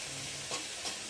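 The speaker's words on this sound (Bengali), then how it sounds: "চলো এবার ঢাকাটা খুলে একটু নেড়ে দেবো।" Potatoes frying in an uncovered pan, a steady low sizzle with two soft scraping strokes as they are stirred, no voices.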